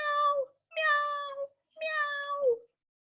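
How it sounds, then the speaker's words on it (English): A cat stuck up in a tree meows three times, each cry drawn out and clear, separated by short pauses, with no other sound around it. "It sat in the tree and meowed at him."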